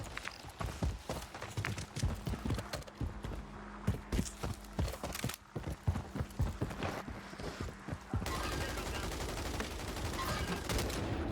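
Rapid bursts of gunfire from a shooter video game played with akimbo Stinger weapons, sharp closely spaced shots crackling for several seconds before giving way to a steadier, even background roar.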